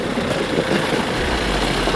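A motorbike engine hums steadily while riding along a risky road through a forest tiger reserve, with a loud low rumble that continues throughout without talking.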